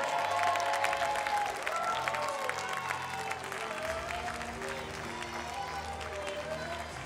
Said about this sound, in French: Est-ce qu'on l'encourage, Alexia? On l'applaudit un peu?